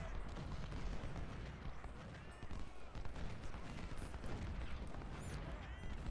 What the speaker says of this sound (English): the cannon's getting an awful lot of good shots on us